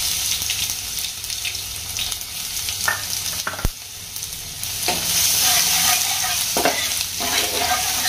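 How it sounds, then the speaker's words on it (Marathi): Ginger garlic paste frying in a pan with mustard seeds and curry leaves, a loud, close, continuous sizzle with repeated stirring scrapes and a sharp clack partway through, no voices. "आणि चांगलं फ्राय करून घ्यायचं."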